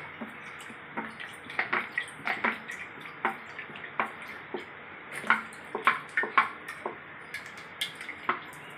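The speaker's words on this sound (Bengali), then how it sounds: "আধা লিটার তেল আমি পুরো ঢেলে দিলাম, সাদা তেল" White cooking oil, about half a litre, is poured into a pan, making soft glugging drips and small irregular splashes with a few light knocks, close and fairly quiet.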